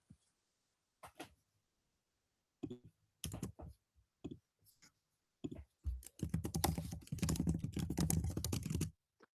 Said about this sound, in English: I hear you typing furiously